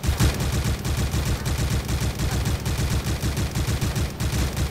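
Rapid automatic fire from an ACR rifle fitted with an ACOG sight in a Minecraft guns mod, a dense continuous stream of loud, close shots with no pauses.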